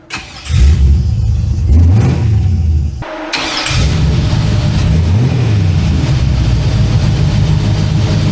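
A 1965 Chevrolet C10 pickup engine cranks and fires, dies briefly, then restarts and settles into a steady, loud, rough idle with a few rises in revs, close by and with no talk.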